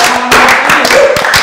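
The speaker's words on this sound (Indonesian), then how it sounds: "Tepuk tangan untuk omongan kosong ini" Applause from a studio audience on an Indonesian chat show, a steady dense patter of clapping that holds loud and continuous throughout with no voices over it.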